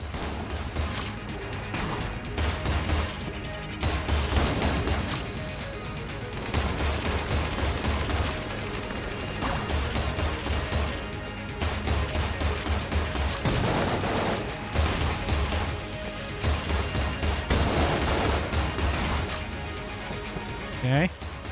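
Rapid bursts of gunfire and crashing impacts from the bullet-hell video game Enter the Gungeon, dense and continuous over a steady music bed, with a person talking over the action at times.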